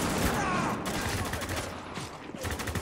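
Dense gunfire from the video game Spec Ops: The Line during a firefight, a continuous loud burst of overlapping shots with no clear gaps, and voices talking faintly underneath.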